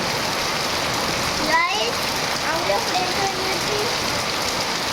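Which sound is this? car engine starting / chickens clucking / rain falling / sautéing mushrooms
rain falling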